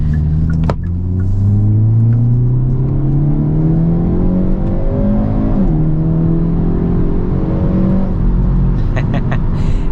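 A 2022 Hyundai Elantra N pulls hard on a highway, its exhaust note rising steadily through the revs before a brief dip at a shift and another climb, loud and close with a steady rumble underneath.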